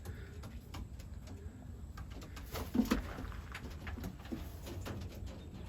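Soft, low cooing from racing pigeons in a loft, a few muffled coos close by over faint rustling and scattered taps.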